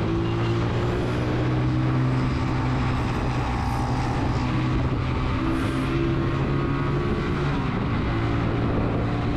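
A motorcycle is ridden at moderate speed, producing a continuous, loud engine hum with steady low harmonics and wind rush, heard close up and alone.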